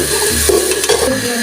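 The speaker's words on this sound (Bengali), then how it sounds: "এখন আমি এটা ভালো করে নাড়াচাড়া দিয়ে দিব" A spoon stirs bottle gourd and shrimp curry in a hot pan, scraping and clinking against the metal over a continuous close sizzle, with a few louder knocks of the utensil.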